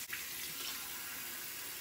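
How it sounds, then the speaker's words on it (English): Tap water running steadily into a sink while a face is rinsed during a facial, a close, continuous hiss of flowing water with no talk. "All right, rinsing. A bit of water on, and now I'm rubbing."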